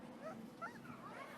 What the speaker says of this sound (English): I'm going to go over there with the puppy.